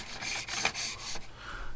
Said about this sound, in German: das Zeug schleift einfach nur auf dem Boden